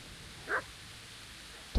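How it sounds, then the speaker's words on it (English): A dog in the medieval game Kingdom Come: Deliverance gives a single short bark, faint and distant, followed by a sharper sound at the very end over quiet background. "I don't like the sound of that"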